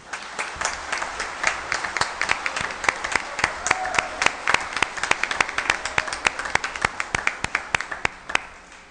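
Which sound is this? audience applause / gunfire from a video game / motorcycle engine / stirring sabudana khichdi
audience applause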